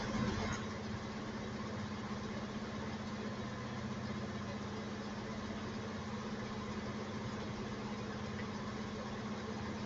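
Car engine running steadily at about 1900 RPM, a constant mid-pitched hum with a low drone and no change in speed, close and alone.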